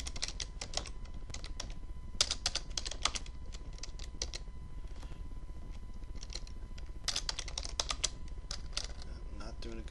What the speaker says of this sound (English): So I'm just going to type